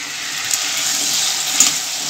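Fritters frying in oil, a dense steady hiss of bubbling sizzle that holds evenly, close and fairly loud, with a couple of faint pops and no voices.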